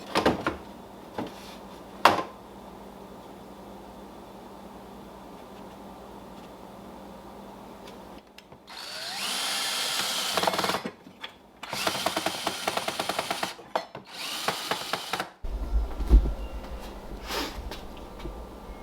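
Power drill boring holes for anchors while building a wooden wheelchair ramp, with several loud bursts of drilling separated by pauses, then lighter tool clatter near the mic and no talking.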